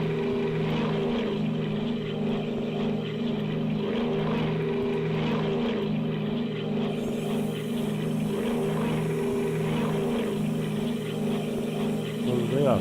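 Four-engine propeller drone of a Lockheed L-749 Constellation in a flight simulator, a steady layered hum with a faint rhythmic beat, continuous and even throughout.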